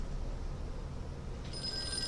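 An old telephone rings in the Call of Cthulhu video game, a steady electronic bell tone held over a low background hum with no talk.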